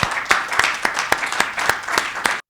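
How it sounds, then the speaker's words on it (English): Audience applause at a scholarship awards ceremony, steady close clapping with distinct sharp claps, sustained and then cutting off abruptly. "let's give a round of applause to say thank you to Meg"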